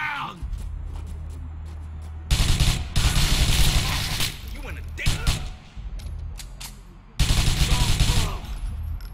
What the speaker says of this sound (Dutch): we knallen ze gewoon allemaal af hoor.